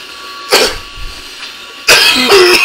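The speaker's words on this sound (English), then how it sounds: "Got a little dizzy there from my coughing there." A man coughs hard twice, a short burst followed after a pause by a longer, harsher fit with raspy throat sounds, close and loud against a quiet background.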